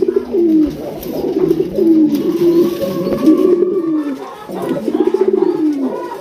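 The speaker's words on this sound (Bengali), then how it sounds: "প্রত্যেকটা কবুতরই ডাকছে" Several Raj Golla pigeons, a red pair among them, coo close by in repeated low, rolling phrases that overlap into a continuous murmur, with soft wing or perch noises.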